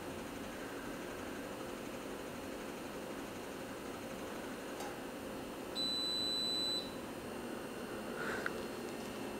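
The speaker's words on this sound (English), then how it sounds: "this kettle has a nice loud beep when the tea is done." A single electronic beep, about a second long, sounds from a Breville Tea Maker kettle when the tea is done, over a quiet, hissy background.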